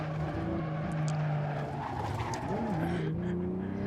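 A turbocharged six-cylinder car drives a mountain road, the engine note rising and falling through gear changes with brief tire noise, loud and close from inside the cabin.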